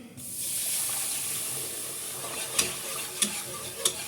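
Seafood soup base fries in a pan with a constant close sizzle, then a utensil stirs and scrapes three times in quick succession near the end, with no talking.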